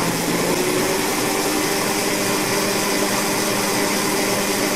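A 63 kW AC generator engine runs steadily, a loud constant mechanical drone with a faint steady hum, alone without any voices.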